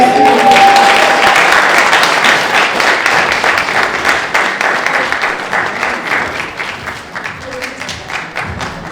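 An audience at a women's awards gala in Paris breaks into loud, close applause that starts at full strength and slowly thins and fades toward the end.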